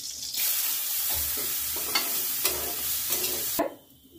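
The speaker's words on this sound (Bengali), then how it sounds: "চালটা আগে দিলাম, একটু ভেজে দিলাম" Parboiled rice fries in a pan for khichuri, a loud, continuous sizzle broken by repeated scraping stirs for several seconds before it cuts off abruptly near the end.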